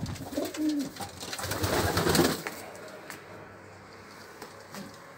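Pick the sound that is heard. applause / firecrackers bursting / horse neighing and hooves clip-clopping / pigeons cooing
pigeons cooing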